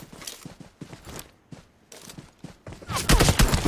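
Gunfire from PUBG Mobile on the Sanhok map rings out in short bursts and single shots, building to a loud, dense volley at the end.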